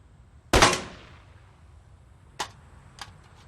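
Pistol gunshots in a film: one sharp loud shot followed by a fading tail, then two fainter, quicker shots spaced out afterward.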